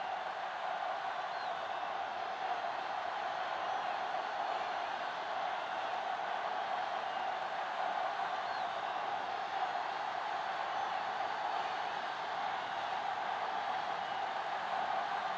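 Steady roar of a stadium crowd in Madden NFL 09 for a Steelers versus Eagles game, a broad, unbroken wash of noise at even loudness with no distinct cheers or claps.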